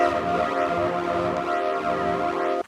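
A buzzy, phasey distorted tone with sweeping comb-like swirls moving up and down, steady and continuous, ending abruptly.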